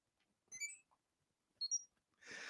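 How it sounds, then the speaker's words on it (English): A camera gives two short, high electronic beeps, faint and close, separated by about a second of quiet, followed by a soft hissing shutter-like rush at the end. "It had one beep that said it was taking the picture, and it had another beep"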